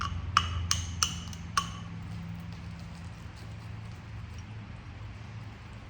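Coastal chert being flintknapped into a Levy point, four sharp clicking strikes in quick succession near the start, then quiet low background hum.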